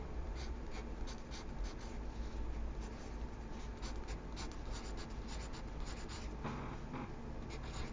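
A pencil writes on paper up close in continuous scratchy strokes, steady and fairly quiet for about eight seconds against a low background hum.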